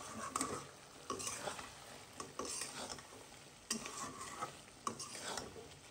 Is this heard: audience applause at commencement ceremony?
no